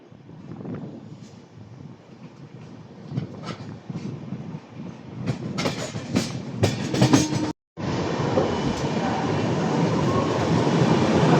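Passenger train 15231 from Barauni to Gondia arrives at Durg station, heard from on board as a steady rumbling roll with rhythmic clicks of wheels over rail joints, growing louder and windier near the end.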